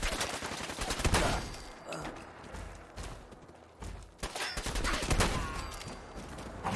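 A shotgun fires repeatedly in the video game Fallout 4, loud booming blasts spaced a second or two apart with echoing tails and mechanical clicks of reloading between them.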